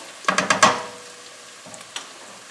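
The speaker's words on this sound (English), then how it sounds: "I let the onions fry until they were slightly browned" Onions hit hot oil for an Indian coconut fish curry: a short burst of loud sizzling and scraping stirs, then the pan quiets to a faint hiss with a couple of small clicks.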